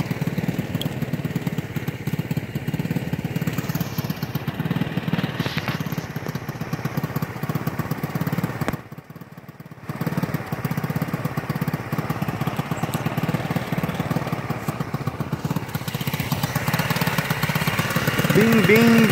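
A GY6 150cc stunt scooter engine runs steadily outdoors with a rough, droning exhaust note, dipping briefly midway before carrying on loud and close.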